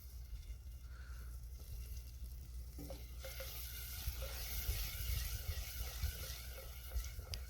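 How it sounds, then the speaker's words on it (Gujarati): Tomatoes drop into hot tempering oil for a Kathiyawadi-style dish, and a loud, broad sizzle bursts up midway, then continues over stirring sounds. "ટામેટા નાખી દઈએ હવે"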